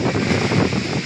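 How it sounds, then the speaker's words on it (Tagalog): Strong typhoon wind during Typhoon Opong blows steadily and loudly, a continuous broadband roar with buffeting gusts against the microphone and no talking. "lumalakas na mga hangin guys, lumalakas ang hangin"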